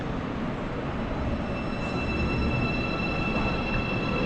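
A train rumbles steadily nearby with a continuous low roar and faint high metallic whine, no voices heard.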